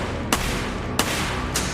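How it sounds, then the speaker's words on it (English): Gunshot sound effect: three sharp, evenly spaced cracks, each brief and percussive, standing out over a constant loud background hiss. "she heard gunshots"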